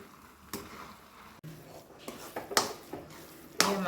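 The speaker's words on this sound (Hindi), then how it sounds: "चलाते रहेंगे बार बार ताकि नीचे तले में ना लगे ये" A spoon scrapes and clinks against a hot pan while carrot halwa is stirred, a few sharp metallic taps and scrapes spaced irregularly over quiet background, close and fairly soft.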